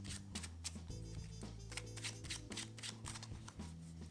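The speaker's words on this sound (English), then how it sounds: "I'm going to give them a quick overhand shuffle" A deck of playing cards gets a quick overhand shuffle, a rapid run of crisp riffling slaps and soft card strikes heard close and alone.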